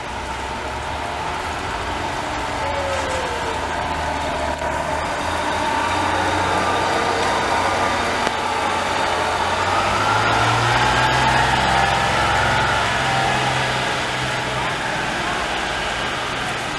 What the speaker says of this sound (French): Good old Detroit diesel power.